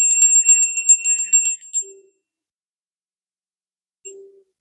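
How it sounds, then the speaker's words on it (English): A bright, high bell rings in a quick series of shimmering strokes that fade out, followed after silence by two short, soft low tones. "We're going to ring the bell and then get started with the Psychic Tarot Oracle"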